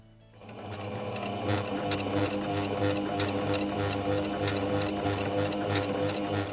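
A sewing machine stitches a decorative edge around a fabric sample, starting up and running in a steady, loud, close mechanical whir with fast rhythmic needle thumping and no talking.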